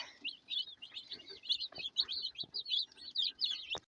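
Cornish cross meat chicks and guinea keets in a brooder give a dense, continuous chorus of high peeping chirps. The sound is close and steady, with a few soft thumps and shuffles underneath.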